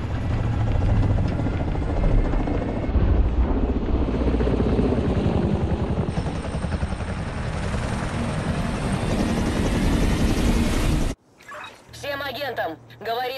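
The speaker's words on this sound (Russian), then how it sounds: "Агент Лау, дайте нам посадить вертушку" A helicopter in the video game The Division 2 roars loudly and continuously as it comes in to land, rotor thrum and engine noise dominating before cutting off abruptly into quieter game sounds.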